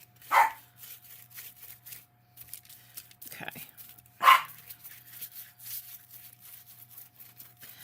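A dog barks in short bursts indoors near a crafter working on a polymer clay mosaic, with a few sharp loud barks standing out over quiet rustling and a brief spoken word.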